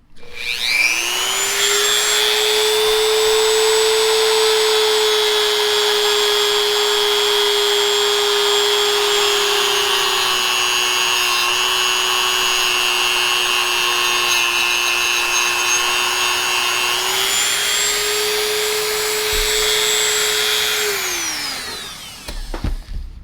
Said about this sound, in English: I have conditioning wheels for my Dremel tool